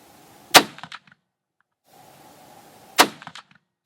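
Two sharp, loud Ruger American rifle shots fired outdoors at long-range targets, each a hard crack followed by a brief echoing tail, spaced about two and a half seconds apart.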